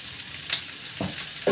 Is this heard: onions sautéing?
yes